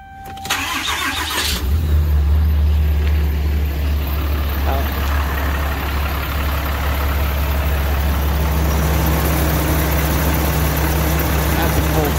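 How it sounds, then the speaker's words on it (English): A 2016 Ram 3500 pickup with a Cummins diesel cranks briefly and fires on a cold start, settling into a loud, steady, rumbling idle that continues close by. "That's a cold start."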